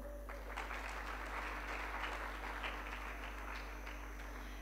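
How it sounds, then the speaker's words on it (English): An audience applauds at a beauty pageant's top model competition, a broad, even roar of many clapping hands over a steady low hum, fairly distant and sustained. "Big applause for her."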